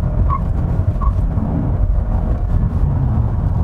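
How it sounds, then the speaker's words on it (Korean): A Toyota Camry Hybrid in sport mode, accelerating hard over a bump, gives two brief high squeaks from its tires early on, above a steady low rumble of road and engine noise. "방금 왜 끽끽 소리가 나는지 아시나요?"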